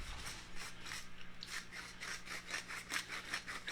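A hand pepper grinder crunching tri-colored peppercorns, a quiet rhythmic rasping of repeated twists heard close up and alone.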